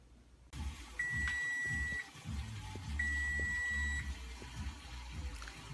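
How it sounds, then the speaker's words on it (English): A kitchen oven timer goes off while a Trinidad black cake bakes, sounding two evenly spaced beep pulses of about a second each, faint against background water and household noise. "The timer just beeped on the cake"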